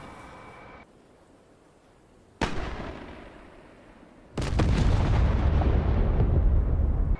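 A JDAM bomb strikes its target in DCS World, seen from an F-14B(U): a sharp distant blast at about 2.4 s, followed by a heavier, rumbling explosion that rolls on loudly to the end.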